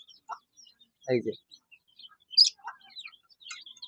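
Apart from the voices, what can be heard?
desi chicken chicks chirping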